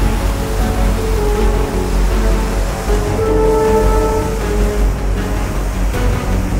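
Water rushing at a dam, a steady, loud broadband roar filling the whole stretch with no voices.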